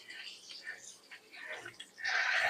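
Sea moss is rinsed by hand in very cold water, giving soft intermittent splashes and sloshing that swell into a louder rush of water near the end, with talk over it.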